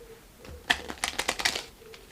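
Tarot cards being pulled from a deck and handled, a quick close burst of crisp flicks and slaps lasting about a second, with no talk.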